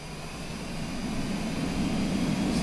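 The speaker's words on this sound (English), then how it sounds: "Go ahead and set our engine power." An airliner's jet engines spooling up for takeoff in Microsoft Flight Simulator, a steady rushing roar that grows gradually louder and fuller, with no voices.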